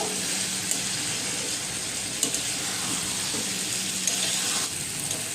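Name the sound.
stirring and sautéing spiced taro and catla fish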